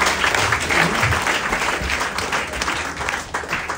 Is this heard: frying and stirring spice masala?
no